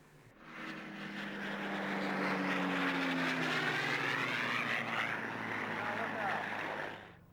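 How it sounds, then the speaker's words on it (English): Spitfire Mark V fighter of the Battle of Britain Memorial Flight passing overhead, its piston engine swelling from quiet into a loud, sustained roar with a falling pitch before fading, alone without talk. "There are a number of Mark Vs still flying today, including this example, which flies with the Battle of Britain Memorial Flight"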